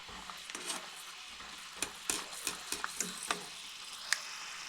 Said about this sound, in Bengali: এই বাদামগুলি ভালো করে প্রথমে ভেজে নিচ্ছি